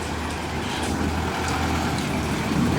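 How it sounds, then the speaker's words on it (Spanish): Heavy trucks belonging to sand-mining companies rumble steadily near the Las Vacas river, a continuous low engine drone with broad roadway noise that stays loud and close throughout, with no voices. "son los camiones de las 6 empresas areneras que trabajan en la zona del río"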